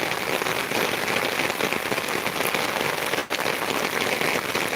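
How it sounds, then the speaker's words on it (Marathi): Heavy monsoon rain drumming on an umbrella during flooding in Beed, a dense continuous patter close by, with one brief sharp tap near the end. "अति मुसळधार पाऊस सुरू झालाय अति मुसळधार"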